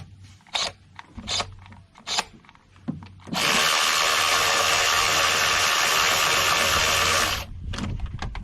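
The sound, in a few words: power tool removing ignition coil bolts, 2019 Honda Odyssey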